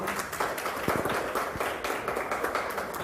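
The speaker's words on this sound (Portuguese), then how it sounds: "Dá salva de palmas, Jesus." Church congregation applauding steadily, a dense even patter of many hands at moderate level throughout, with a few murmured voices underneath.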